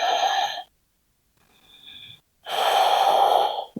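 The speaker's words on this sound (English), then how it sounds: "Several deep breaths here." Deep breathing during a slow flow yoga session, a long audible exhale followed by a faint short breath and a second strong drawn-out breath, close and alone with no talk.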